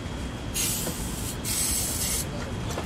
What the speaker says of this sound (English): I'm gonna spray the oxygen sensor also.